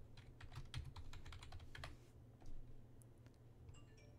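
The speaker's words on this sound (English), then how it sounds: "Hit the Enter key after typing in the IP address." Rapid clicking of keys on a computer keyboard, a close, quiet run of typing with a brief pause before a few final taps.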